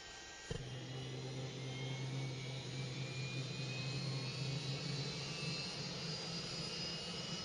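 A helicopter's rotor and engine drone steadily over a dark forest as a sound effect, a sudden loud onset followed by a constant mechanical roar with no voices.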